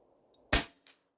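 A single sharp crack from a Stoeger XM1 Scout PCP air rifle outdoors, short and loud, followed by a faint second tick a moment later in otherwise quiet surroundings.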